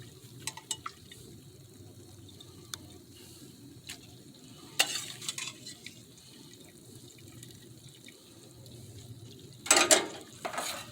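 Cooked pasta being stirred into a sausage and peppers sauce in a pan, with soft scraping clicks over a low steady sizzle, then a louder burst of splashing and stirring near the end.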